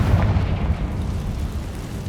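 The Confringo explosive spell is cast in Hogwarts Legacy, giving a loud, deep explosive boom with a rumbling burst that fades slowly.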